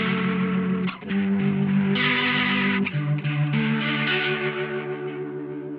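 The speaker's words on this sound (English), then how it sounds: "this is what the 122 sounds like" Guitar chords played through the Line 6 HX Effects rotary speaker cab 122 at preset, a lush, wet swirling tone with wavering chorus-like movement, loud and close with chord changes every second or so.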